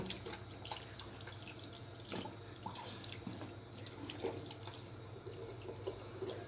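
Tap water runs steadily into a sink while a small child washes her hands with soap, with splashes and drips breaking the flow over a low background hum, close and fairly quiet.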